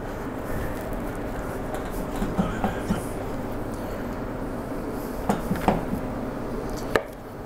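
A butcher knife cuts cowboy-cut 90-day dry-aged ribeye steaks at a butcher shop, a continuous low scraping and slicing texture with scattered knocks and a sharper thud near the end.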